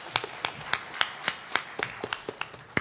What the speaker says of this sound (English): So give Mason a round of applause for that.